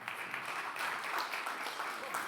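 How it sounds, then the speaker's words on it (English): Conference audience claps to welcome a speaker at a tech talk, a brief, even patter of applause in a hall with some voices underneath. "Please, hand over applause."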